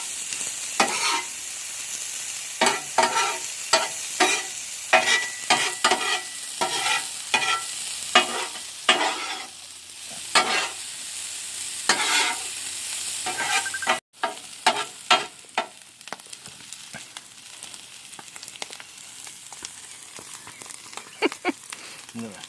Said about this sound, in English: We'll cook the peas and carrots and the onions first.